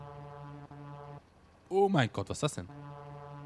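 A vehicle horn in Farming Simulator 17 blares a deep, steamship-like tone, holding steady before and after an excited voice exclaims over a short gap, then droning on alone.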